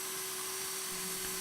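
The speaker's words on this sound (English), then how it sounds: "here I'm pre-drilling a hole about an inch down into the back 4x4" A power drill bores a pilot hole about an inch deep into a wooden 4x4 for a garden bench, giving a steady, loud whine with an unbroken drone through the whole short stretch.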